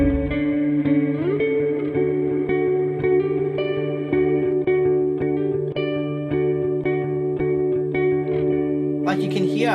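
Electric guitar played through Valhalla Vintage Verb, a sustained chordal passage washed in lush modulated reverb and echo, steady and loud with long ringing tails, ending in a brighter burst of strummed texture.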